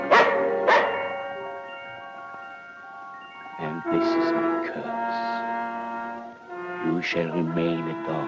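A dog barks and whines in an old 1940 fantasy film soundtrack, several yelping bursts with drawn-out howling tones between them, fairly close.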